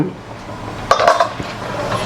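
A spoon scrapes and clinks against a cooking pot while thick mutton curry is stirred, giving a short burst of metallic knocks in the middle against a quiet kitchen background.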